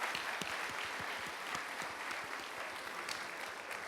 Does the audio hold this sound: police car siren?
no